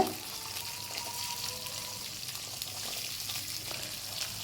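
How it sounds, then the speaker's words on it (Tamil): Small shallots sauté in oil for a pirandai (adamant creeper) chutney, giving a continuous, even sizzle and crackle at moderate level with no talk and only faint stirring. "அந்த சின்ன வெங்காயத்தையும் கூட சேர்த்து நல்லா வதக்குங்க"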